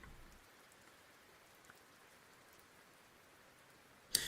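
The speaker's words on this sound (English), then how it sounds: "we're gonna do Soothing Rain. It's not raining here, but I wish it was." Soft, steady rain hiss plays quietly and evenly throughout, with a single brief thump right at the end.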